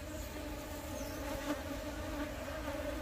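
A honeybee colony hums at the hive in a continuous, even drone of many wings, close and steady without pause.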